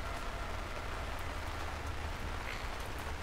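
Rain falling in the video game Lakeview Cabin 2, a steady, even hiss of raindrops pattering on surfaces, quiet and continuous with no talking.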